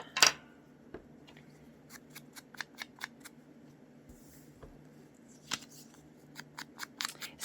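Scissors cut through scrap paper in quick runs of crisp snips, close and clear against a quiet room, with an occasional louder rustle of paper and no talking.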